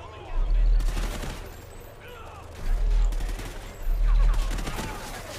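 Bursts of gunfire in the video game Call of Duty: Ghosts, three heavy volleys with rapid repeated shots, loud and close, separated by quieter stretches of ambient battle noise.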